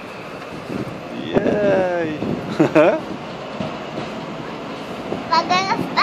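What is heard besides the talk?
train passing through a station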